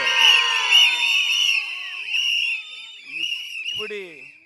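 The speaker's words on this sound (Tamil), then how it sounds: "அது வெற்றி சின்னமா விசில் சத்தம் கேட்டுக்கொண்டிருக்கிறது." Shrill whistles blown by a crowd at an election campaign rally in Egmore, with piercing tones repeating over a dense background of crowd noise and shouting, loud and close throughout.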